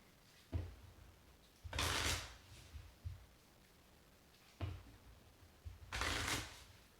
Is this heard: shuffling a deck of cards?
yes